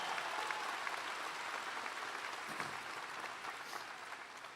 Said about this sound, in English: could we give a round of applause and a shout out to the singers and the band today?